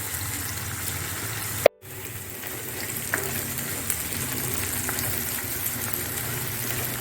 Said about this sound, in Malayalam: ഉള്ളി നന്നായി മൂപ്പിച്ചെടുക്കാം. അതിന് കുറച്ച് ഉപ്പ് ചേർത്ത് കൊടുക്കുകയാണ്.